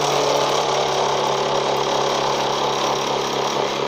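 A candy floss machine's motor runs steadily while the head heats up, a continuous whirring mechanical drone with a broad hiss, fairly loud and close, holding an even level throughout with no talking.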